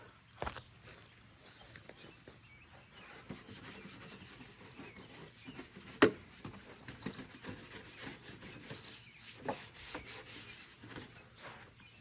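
A soft-bristled dustpan brush scrubs a car surface with automotive cleaner, making repeated rough rubbing and scratchy strokes at close range, with a few sharper knocks between the irregular passes.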